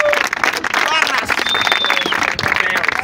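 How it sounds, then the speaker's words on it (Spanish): A crowd claps and cheers loudly, with whistles and excited voices shouting over the applause. "¡Un aplauso!"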